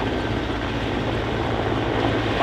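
A Mi-17 or Mi-24 military helicopter at an air show gives off a loud, steady rotor and engine roar that holds without a break.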